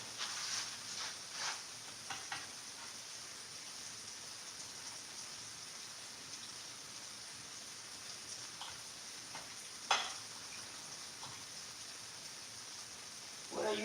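Chicken egg rolls fry in a pan, giving a steady bright sizzle and crackle throughout, with scattered pops and one sharper spatter partway through, in a quiet kitchen.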